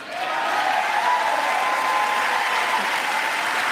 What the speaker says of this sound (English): You got a lot of applause in the room, even from some GOP members there.